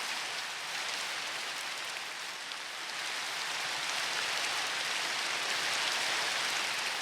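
Steady hiss of rain falling in Minecraft, even and continuous throughout, with a dense patter of drops and no voices.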